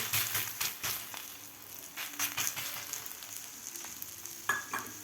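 Cauliflower thalipeeth sizzles in oil on a griddle, a constant crackling fry with scattered sharper pops and a few light scraping clicks nearby.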